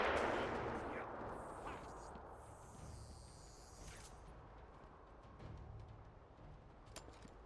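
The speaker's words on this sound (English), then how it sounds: "Stop shooting me, bro." Gunfire in Batman: Arkham Asylum sounds as a dense, loud rattle at the start that fades into a low rumbling backdrop, with a few faint sharp cracks later on.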